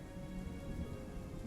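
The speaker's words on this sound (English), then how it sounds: "The rain kind of picks up. I'm hearing a little thunder in the distance." Steady rain falling outdoors among trees, a soft continuous patter with a low, faint rumble of distant thunder beneath it and no voices.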